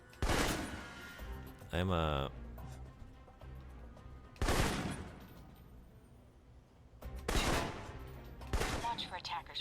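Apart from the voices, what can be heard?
assault rifle gunfire in video game Alpha Protocol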